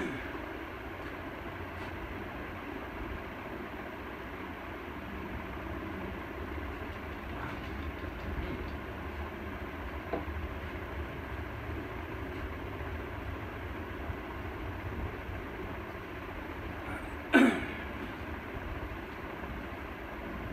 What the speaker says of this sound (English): the fan runs flawlessly.